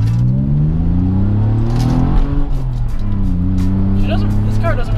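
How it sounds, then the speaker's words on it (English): A manual five-speed car accelerates, its engine droning steadily from inside the cabin, with the pitch rising and falling through gear changes and a voice talking over it. "this car is so much fun to drive since it's a manual, it's a 5-speed"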